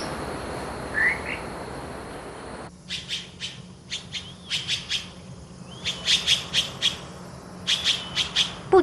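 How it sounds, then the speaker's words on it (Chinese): Birds call in a mountain forest with repeated sharp chirps and squawky bursts in quick clusters, over a steady hiss of insects that drops away after the first few seconds. "林间虫鸣鸟叫声不绝于耳"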